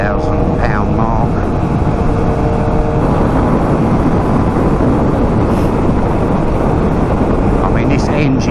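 A Triumph Trident 660 three-cylinder motorcycle is ridden at speed, its engine droning close under a loud, constant roar of rushing wind.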